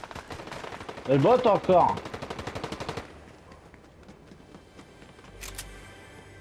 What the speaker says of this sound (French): Pourquoi ça tire là?